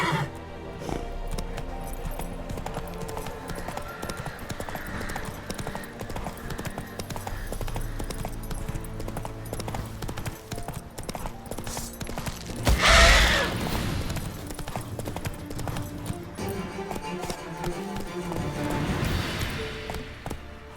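Roach, a horse in the video game The Witcher 3, gallops with a steady clip-clop of hooves throughout, with a brief neigh or bright burst near the middle and another swell late on.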